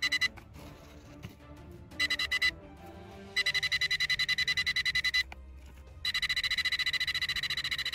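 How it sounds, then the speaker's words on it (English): A metal detector used in treasure hunting emits bursts of rapid, high-pitched beeping signal pulses, several separate runs with short pauses between, loud and close. "Metal detector picking up signals too close."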